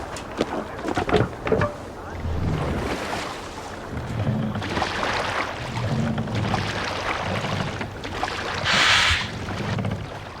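A Viking longship under sail in Assassin's Creed Valhalla moves through water with a broad rushing wash of waves and wind, close, with scattered creaks and splashes and a brief high tone near the end.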